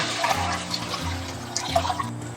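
Water is poured into a cooking pot holding scallion, ginger and dried shrimp fried in lard or oil with a splash of cooking wine. It makes a steady, close splashing rush that runs for the whole clip with no talk.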